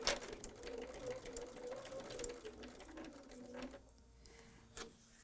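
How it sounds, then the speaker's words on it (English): A sewing machine stitches a quilt block of red and white fabric with a steady, close mechanical whir that runs continuously, then slows and stops, with a brief spoken word near the end. "And we're going to sew to that point and stop."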